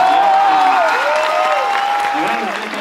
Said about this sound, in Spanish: Maravilloso, más grande el aplauso.